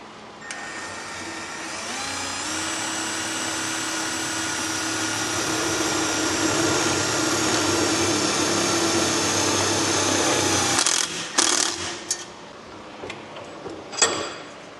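A power screwdriver drives self-tapping screws into the dash radio bracket of a 1958 Plymouth, a steady whining run of about ten seconds followed by several short clicks and knocks.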